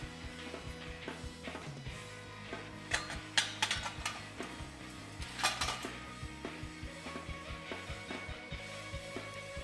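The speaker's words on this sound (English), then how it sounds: "Now just set the stove in place." A Skottle camp stove being set in place on its legs: metallic clinks, rattles and a few sharper clanks as the pan and frame settle, fairly close and moderately loud.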